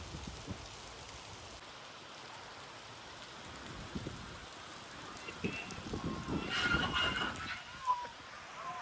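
Rain falling outdoors, a soft, steady patter of drops on surfaces at low level, with faint scattered noises rising near the end.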